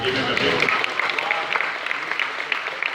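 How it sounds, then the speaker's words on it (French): A conference audience of mayors and delegates applauds the moderator at the close of a three-day congress in Montréal, a steady dense wash of clapping sustained throughout, loud and continuous with a faint murmur of voices underneath. "il mérite une très bonne main d'applaudissement"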